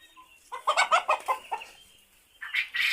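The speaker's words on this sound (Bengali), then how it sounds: "আর এখানে আছে আমার এই যে মুরগিগুলা।" Chickens cluck close by in a quick run of several calls, fall quiet briefly, then let out a couple more clucks.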